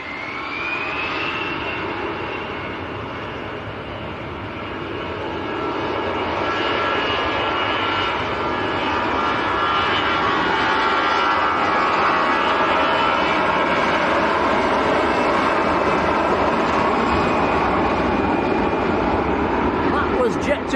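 Jet2 Airbus A321 airliner at Manchester airport, its engines roaring steadily and swelling louder over about twenty seconds as it passes, with people talking over the noise.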